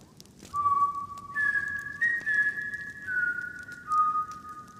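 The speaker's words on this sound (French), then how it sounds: "le sifflement retentit" An eerie whistle from a horror legend: long sustained tones that shift between two pitches and hold steady over a low rumbling background, with no voices.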